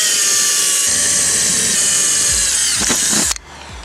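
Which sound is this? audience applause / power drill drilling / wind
power drill drilling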